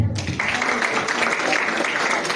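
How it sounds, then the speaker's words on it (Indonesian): Students and teachers clap on request during a school teacher-training session, a dense steady round of applause that swells up after a short opening moment and holds throughout. "Tepuk tangan dulu semua"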